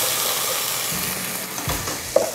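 Canned black beans go into a pan of frying garlic and chili, giving a steady close sizzle with faint stirring scrapes and a few small clinks.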